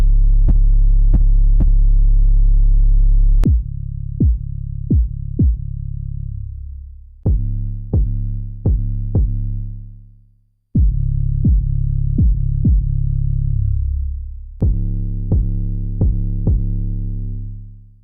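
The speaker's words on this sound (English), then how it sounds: "here's the 808s" A run of 808 bass drum samples built in FL Studio, each a deep booming hit with a long sliding tail, played in quick bouncy groups of three to five separated by short pauses, loud and alone without talk.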